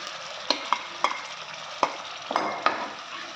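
Brinjal masala being mixed in a hot pan, with sharp spoon scrapes and taps at uneven intervals over a soft frying sizzle, near and without voices.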